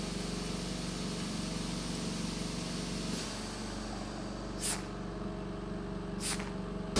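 A 30 L/min oxygen concentrator test unit hums quietly with a steady mechanical drone, its pitch shifting partway through, broken by two brief puffs of venting air near the end; no one speaks.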